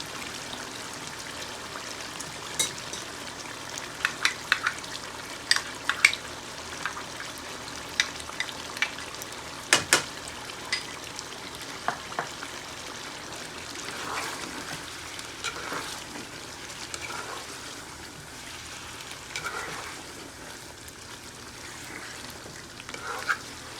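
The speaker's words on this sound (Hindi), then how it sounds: "अब इसमें ये डाल दें हम बादाम और काजू का पेस्ट" Almond and cashew paste sizzles and fries in a pan of chicken korma, a steady bubbling hiss dotted with small pops and stirring scrapes, heard close with no talking.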